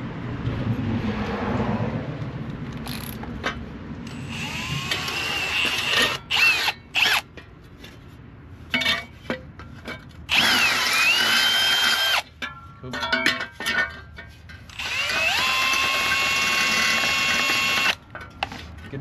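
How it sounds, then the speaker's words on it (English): A power drill bores quarter-inch holes during an air-conditioning install on an LS-swapped Chevy S10, with several loud, close whining bursts separated by pauses, rattles and handling clatter. "We got our holes drilled."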